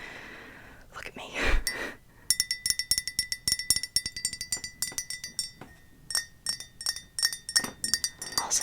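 Long fingernails tap a glass mug in quick, uneven bursts of bright clinks, close to the microphone, with soft breathy whispering near the start.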